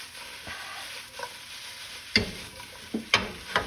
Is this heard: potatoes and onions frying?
yes